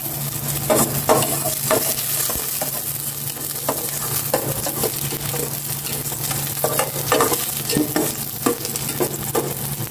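Garlic sizzles in a hot pan while being stirred: a continuous frying hiss broken by frequent short scraping strokes of a utensil, close and fairly loud.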